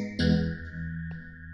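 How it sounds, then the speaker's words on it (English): A bright ambient synth pad drenched in heavy reverb swells in abruptly and sustains as a layered, washy chord, loud and alone with no voices. "you just have to find ambient pads or ambient blocks, something that just has like a lot of reverb to it"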